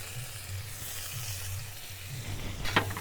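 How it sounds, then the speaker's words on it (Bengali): Onion and garlic sizzle in hot oil in a kadai, a close, even frying hiss with a brief stir near the end. "এবার আমি এই তেলে পেঁয়াজগুলো দিয়ে দিব"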